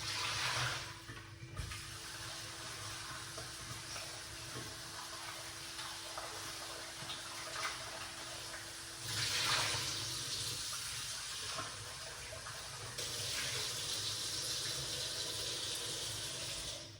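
Tap water running steadily into a sink while fruit such as apples, ginger and lemon is washed, a continuous splashing hiss with brief louder surges as the stream is disturbed.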